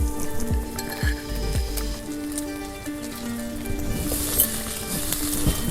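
Ginger garlic paste goes into fried onion paste in a pan and sizzles softly and steadily up close, with light clinks of utensils and a brief louder spit near the end.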